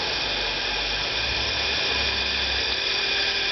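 The spindle of a Cincinnati Toolmaster vertical milling machine runs at speed, a loud continuous high whine with a steady mechanical drone underneath, close and unbroken throughout.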